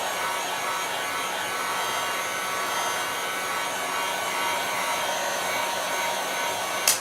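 A hair dryer runs steadily and close by, drying chalk paste on a Christmas tree craft kit, a continuous even blowing that stops abruptly near the end with a brief click.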